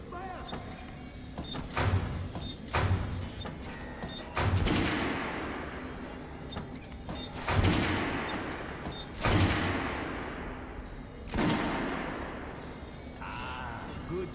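Gunfire at a shooting range in the video game Metro Last Light Redux, with sharp, loud shots fired in separate bursts and reverberant echoes trailing off between them, and a voice speaking over parts of it.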